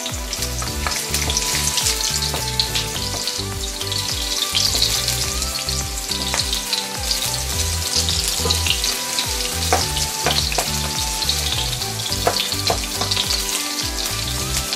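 Onion sautéing in a pan as the start of beef kaldereta, giving a steady, close, continuous sizzle with faint stirring scrapes throughout and no talking.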